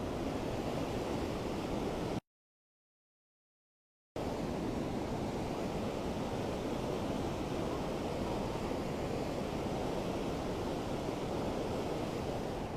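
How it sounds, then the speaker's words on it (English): Floodwater left by heavy rainfall rushes in a constant, broad wash, steady and fairly quiet, briefly cut out before resuming unchanged, with no voices. "This is the water caused by the heavy rainfall."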